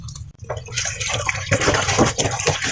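A school shirt is rinsed by hand in a basin of water, with steady splashing, dripping and sloshing that swells after a brief pause and continues close and fairly loud.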